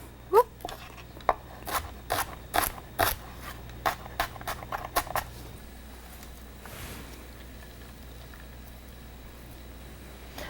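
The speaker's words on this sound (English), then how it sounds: "when I cut a large onion, I'm going to score it and then just run my knife down" A large onion scored and sliced with a kitchen knife on a cutting board, a quick series of about a dozen crisp, close chops in an uneven rhythm, then quiet.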